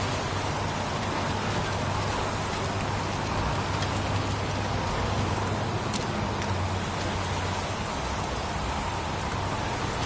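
Steady, dense rain falls throughout a scene in the video game Heavy Rain, a constant close hiss with a low rumble beneath and no voices over it.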